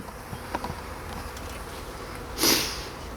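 Honeybees buzz faintly around an open hive during a spring inspection, a soft scattered hum broken by brief louder passes as single bees fly close to the microphone.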